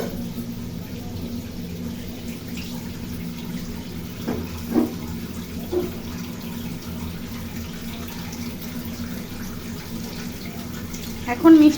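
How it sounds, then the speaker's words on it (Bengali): Water poured into a pan of cooking pumpkin makes a steady, even rush of liquid that runs throughout, with a few brief louder knocks against the pan. "এখানে আমি পানি দিয়ে দিচ্ছি"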